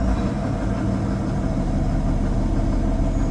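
An ALLTRACK AT-250HD Gen3 tracked carrier's engine runs at a steady idle, a continuous low rumble heard close up with no talk over it.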